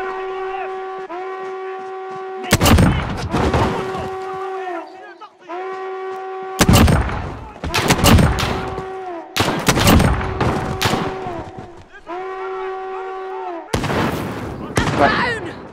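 Heavy gunfire in a Call of Duty: Modern Warfare match on an airport roof, with loud bursts of shots cracking out in several separate volleys between stretches of steady tonal droning.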